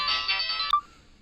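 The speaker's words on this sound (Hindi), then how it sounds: "हाँ घंटी जा रही है, घंटी जा रही है" A phone ringtone rings on a call, a bright electronic tone pulsing briefly and cutting off abruptly, alone with no talk.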